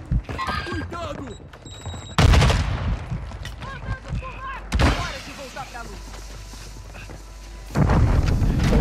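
Gunfire in the video game Call of Duty: Warzone, loud heavy bursts and rattling volleys recurring across the clip, with voices talking under and between the shots.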